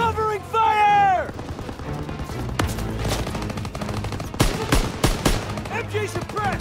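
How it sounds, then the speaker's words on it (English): Machine guns rattle in rapid bursts during a Call of Duty World War II battle in Germany, loud and near, with dense overlapping gunfire, distant booms and shouted voices. "Covering fire on the MG!"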